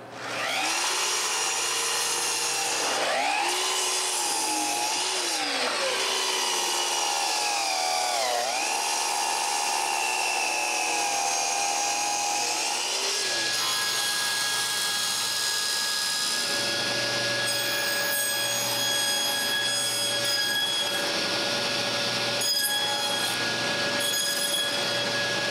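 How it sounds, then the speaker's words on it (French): A band saw cuts a rough shape out of a piece of plywood in a woodworking shop, a loud continuous whine whose pitch rises and dips as the blade works through the wood, then settles into a steady running hum. "Je vais à scie à ruban et je coupe la forme grossièrement"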